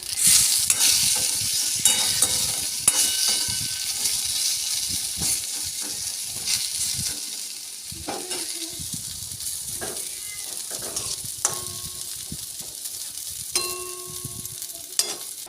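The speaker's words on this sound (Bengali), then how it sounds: "আর এই দেখো এখানে বসিয়েছি কুন্দুরি ভাজা" Ivy gourd (kundru) fries in a pan, giving a steady close sizzle and hiss with intermittent scraping and stirring clatter throughout.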